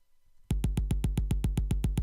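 Bass drum and snare drum hits programmed in Pydal, Python's live-coding pattern tool, play in a fast steady run of about twelve evenly spaced strikes subdividing the beat into three, crisp and dry with no voices.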